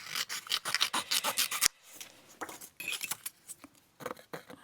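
Scissors snip through paper in a quick, regular run of crisp close cuts, followed by a pause and then a few softer paper rustles and scattered snips.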